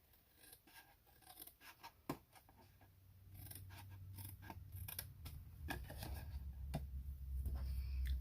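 Paper being trimmed with scissors for a craft card: a run of small, quiet snips and scraping rustles close by, with a low hum building underneath.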